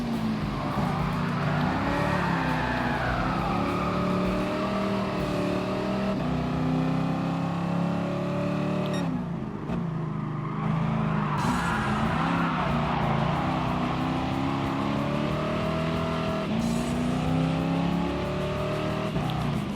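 Dodge Challenger racing in Gran Turismo Sport, a loud continuous engine roar rising and falling through gear shifts and cornering, with a brief lift-off dip partway through.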